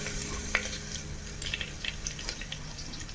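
Oil sizzles steadily in a kadhai, an iron wok, during preparation of an Odia-style dhaniya chicken curry, with faint stirring scrapes and a few small clinks standing out over the continuous crackle.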